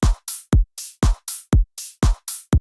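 A clap sample processed with compression and dynamic EQ in the Phase Plant synth, repeated about ten times in a steady rhythm, each hit a loud, sharp snap with a short bright tail, some with a heavier low thump.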